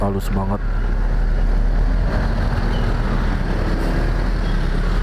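A Kia Carnival Sedona engine with a freshly rebuilt upper block runs at a steady, smooth idle, a continuous low hum that stays close and even throughout, with a brief voice at the very start.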